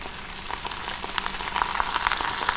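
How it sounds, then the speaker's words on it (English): Fish fillets sizzle in a hot pan with lime juice sprinkled over them, a steady close crackling hiss with small popping spatters throughout. "sizzling away. Sizzling here."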